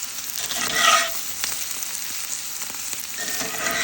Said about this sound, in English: We got some browning here.